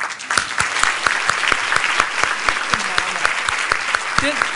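An audience claps loudly for a speaker coming to the stage, with dense, sustained applause from a large room, close and continuous.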